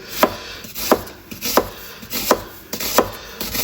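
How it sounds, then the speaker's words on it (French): A knife slicing a shallot finely on a cutting board, with six evenly spaced, crisp chops close up and a faint high hum behind them. "Je vais émincer finement mon échalote"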